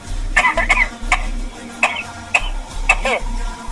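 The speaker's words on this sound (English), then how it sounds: "Oh, I am coughing" Several short, sharp coughs in quick bursts, close up, irregularly spaced with brief pauses between them.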